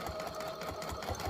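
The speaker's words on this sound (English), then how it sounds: "And then I'm going to put it on the sewing machine." A sewing machine stitches forward and back on fabric for a scrunchie keychain, with a fast, steady, close-up mechanical rattle running the whole time.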